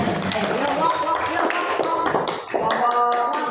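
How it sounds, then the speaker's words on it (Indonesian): Students clapping hands in an Indonesian classroom, a brief burst of rhythmic claps mixed with tapping and voices talking over it. "tepuk tangan."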